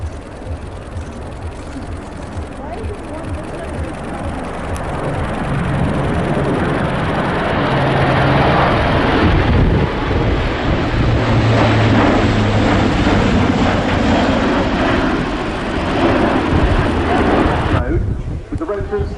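A tiltrotor aircraft with Rolls-Royce power flies past at the RAF Fairford air show, its engine and rotor roar swelling into a loud, broad, sustained drone and then easing off near the end.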